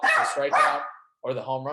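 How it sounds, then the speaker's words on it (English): A dog barks indoors in short bursts, heard close and mixed with someone talking over it. "Excuse my dog there."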